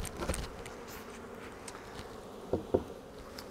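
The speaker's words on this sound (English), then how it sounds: "A lot of bees." A honey bee swarm buzzes steadily at close range, a dense insect drone with a few louder passes near the microphone.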